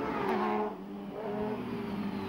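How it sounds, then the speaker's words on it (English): An endurance racing motorcycle, bike number 85, pulls out of the pits at Mallory Park after a pit stop, its engine revving loud and close in a steady roar, then easing off and building again as it accelerates away. "The 85 bike heads back out after a pit stop racing"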